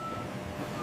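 A forklift moving finished pallets into cold rooms at a Maine lobster facility gives off a faint, steady high reversing beep over low, rumbling background noise.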